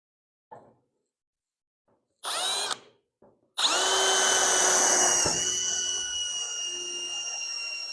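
A power drill drives screws into the roof of an Ump Modified race car, starting with short bursts and then a long whining run that slows near the end, loud and close.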